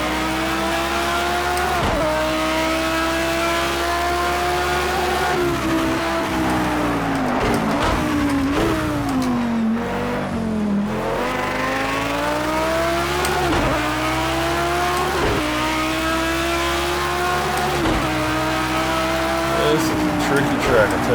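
A race car in Project CARS 2 laps a track, its engine whining up through the gears with repeated sharp downshifts and dips into corners, loud and continuous under someone talking.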